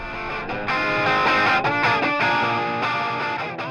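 A strummed electric guitar chord pushed through a Klon overdrive pedal rings out with a thick, driven, harmonically rich tone, sustaining steadily at full volume with a brief dip and re-strike midway.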